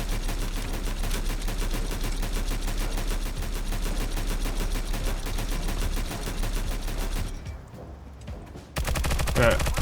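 Enemy gunfire in Stalcraft rattles in a steady, rapid stream of shots for about seven seconds, drops away briefly, then resumes loudly.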